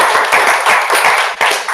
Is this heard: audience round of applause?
yes